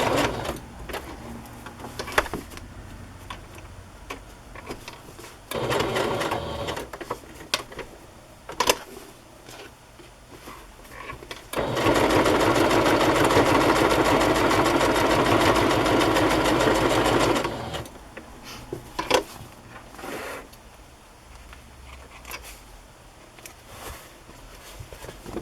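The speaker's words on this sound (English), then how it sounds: "I'm going to do along both edges with a straight stitch so it doesn't take up so much of the lace" A sewing machine straight-stitching along both edges of brown lace on a fabric journal cover, running in short bursts and then one long steady run, close and fairly loud, with clicks between runs.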